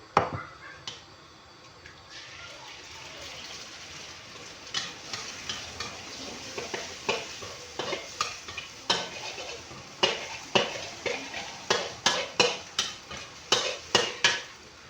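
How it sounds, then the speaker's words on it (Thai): Mushrooms and chili being stir-fried in a pan, a sizzling bed under a quickening run of sharp clacking strokes of the utensil against the pan, close and fairly loud, coming more densely toward the end. "ลงผัดเลยนะครับ"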